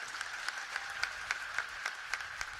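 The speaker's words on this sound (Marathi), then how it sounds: "सगळ्या मराठा समाजाचं टाळ्या वाजवून कौतुक करू" A crowd applauds at a Maratha community rally, the clapping falling into a steady, rhythmic beat that sounds faint and distant.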